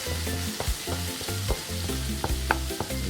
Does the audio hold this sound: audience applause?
no